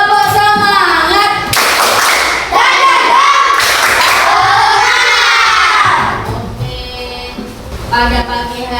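A group of children in a school classroom does a rhythmic spirit clap, with loud bursts of clapping mixed with shouted, chanted voices, close and energetic, before it tapers off into a few scattered voices.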